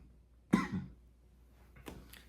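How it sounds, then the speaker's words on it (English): A man gives one sharp, loud cough close to the microphone, then a fainter, brief throat-clearing follows about a second later. "I ain't mean to cough like that"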